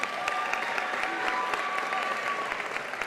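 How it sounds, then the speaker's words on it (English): A graduation audience applauds the staff chosen to present diplomas, a steady dense wash of clapping hands filling the hall from start to finish at moderate volume. "So let's give them all a round of applause."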